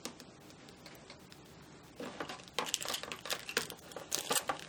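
Small craft dies in cellophane wrappers rustle and crinkle, starting faintly, then turning into louder bursts of crackling plastic as they are handled up close.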